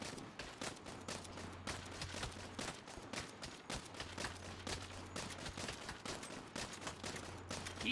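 Rapid gunfire in Saints Row, shots from a sniper camped on a hill, crackles as quick repeated bangs throughout, quiet and distant-sounding, with a low hum running beneath some stretches.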